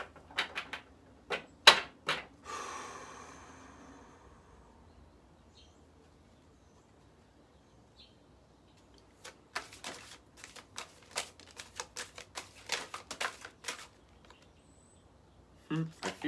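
Tarot cards being cut into three piles, sharp papery taps and riffling clicks in short bursts, with a quiet gap before more rapid card snaps toward the end.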